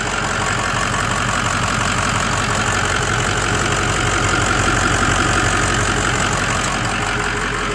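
A Ford Powerstroke 6.0 diesel truck engine idling with a hard-start condition, a loud, close, steady rumbling clatter with a rapid knocking pulse that stays even throughout, no voices.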